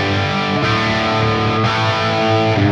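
An electric guitar played through a Marshall JMP50 amp model on a Valeton GP200LT multi-effects unit rings out as sustained, crunchy overdriven chords, loud and steady, with two brief chord changes.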